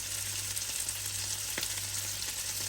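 A pan of salmon, potatoes and veggies simmering gently, giving a quiet even sizzle with one small clink midway, close but low in level and free of talk.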